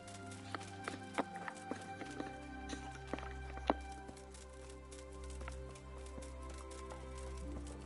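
Horse hooves clop at a walk in the medieval video game Kingdom Come: Deliverance, an irregular series of soft, close hoof strikes over a low steady ambient drone.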